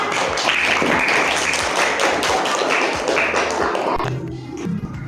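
A classroom of sixth-grade students claps for a student group, a burst of dense, close clapping that holds steady and then quickly dies away into the quiet room.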